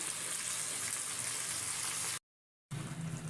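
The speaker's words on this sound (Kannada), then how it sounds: "ಸ್ವಲ್ಪ ಚೆನ್ನಾಗಿ ಫ್ರೈ ಆಗಲಿ" Chicken chops frying with masala in oil in a pan, a steady, even sizzle that cuts out briefly and then resumes, no talking.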